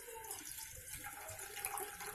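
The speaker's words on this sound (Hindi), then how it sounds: "पानी डाल देंगे," Water runs into a pan set on a gas stove, a faint, steady splashing trickle without any talk.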